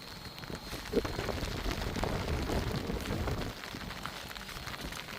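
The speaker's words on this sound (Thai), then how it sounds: "ฝนนี่มันบ่ซองง่ายเลยเนาะ" Rain falls steadily during a flood, a dense, moderately quiet patter with a continuous wash of drops throughout and no voices.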